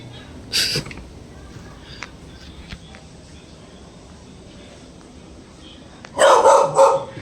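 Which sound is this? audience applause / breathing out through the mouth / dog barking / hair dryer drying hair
dog barking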